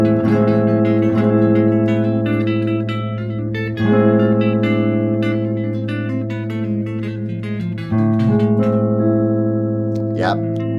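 Sustained chord played on guitar while a second instrument runs through a harmonic minor scale against it, notes ringing loud and clear with occasional new attacks.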